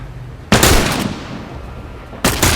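Gunfire in The Last of Us Remastered: a loud, sharp blast with a ringing tail, then after a pause a second quick burst of shots, with no talking.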